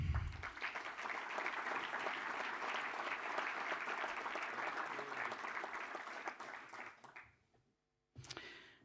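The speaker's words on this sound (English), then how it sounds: "Please applause for our next guest" Audience applause welcoming a guest speaker at a sailing event's inaugural day, steady dense clapping from a crowd that fades out near the end, followed by a brief burst of sound after a short silence.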